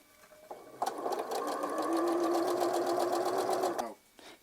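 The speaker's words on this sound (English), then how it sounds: "I'll just flip this around and sew on this other side." A sewing machine stitching quilt fabric runs in one steady, rapid burst of about three seconds, its needle chattering evenly at close range before stopping, with soft handling noises before and after.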